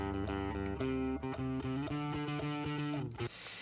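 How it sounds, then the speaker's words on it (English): Solo bass line run through distortion processing, a fuzzy, edgy sustained riff of steady repeating notes heard alone and up close, with no voices. "I've added my own bass line as well as a distorted bass processing. Here's the bass all alone."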